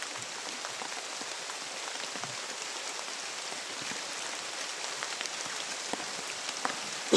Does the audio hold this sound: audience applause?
no